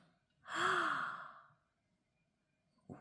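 One sharp, breathy gasp sounds close to the microphone, rising quickly and trailing off over about a second, followed by near silence.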